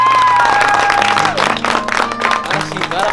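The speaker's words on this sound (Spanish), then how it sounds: "¡Un aplauso para mi abuelo!" Applause rises from a group, scattered claps building under cheering and voices, with a steady musical tone in the background.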